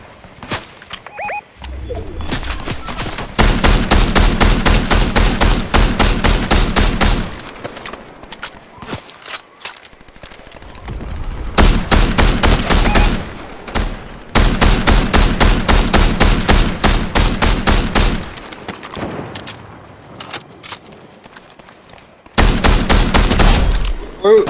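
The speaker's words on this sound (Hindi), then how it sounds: "चल फिर नॉर्थ वेस्ट पे चल, गन लड़ाई हो रही है।" Rapid automatic gunfire from a Fortnite gunfight, loud sustained bursts of several seconds each separated by short pauses, with fainter shots in between.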